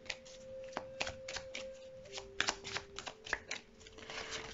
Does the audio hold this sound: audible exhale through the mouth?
no